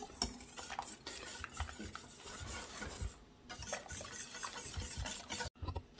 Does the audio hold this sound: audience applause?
no